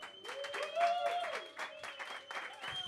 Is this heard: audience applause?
yes